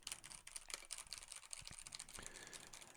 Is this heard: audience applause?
no